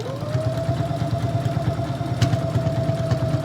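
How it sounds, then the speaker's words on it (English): A sewing machine stitching slowly through many stacked fabric layers of a face mask, a steady rapid mechanical chugging with a high motor whine, close and continuous. "Remember, you're sewing through a lot of layers right now, so just take it easy."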